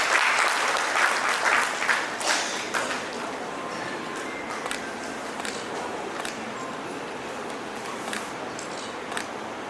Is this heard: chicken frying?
no